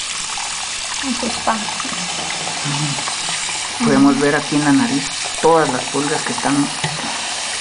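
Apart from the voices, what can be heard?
warm water bathing a rescued puppy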